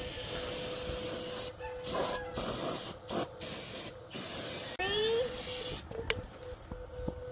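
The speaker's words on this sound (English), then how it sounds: "what I do is I'm gonna strip all the oil and grease off of it. With some brake cleaner." Aerosol brake cleaner sprayed onto a rifle to strip oil and grease, a loud close hiss in several bursts of varying length with brief pauses and a soft rattle between them.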